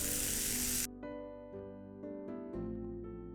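Chopped tomatoes sizzle loudly in a pan for under a second, then the hiss cuts off as the pan is covered, leaving steady tonal sounds in the background.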